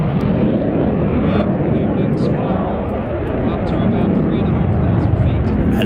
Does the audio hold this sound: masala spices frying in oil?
no